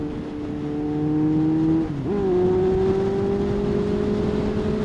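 A 2007 Kawasaki Z1000 motorcycle engine accelerating to overtake, a loud, close, steady tone that dips briefly with a gear change and then climbs again, with no talk.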